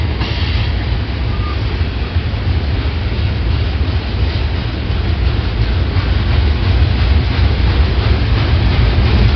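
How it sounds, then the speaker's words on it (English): A long Union Pacific freight train hauling gondolas rolls past on the main track, giving a loud, steady rumble and rattle of rail cars that builds slightly toward the end. "Beautiful train, main track number 1, eastbound on the BNSF track."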